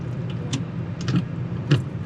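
Car idling, then pulling off after being shifted into drive, with a low steady engine rumble, faint clicks and a couple of small knocks from inside the cabin; no talking.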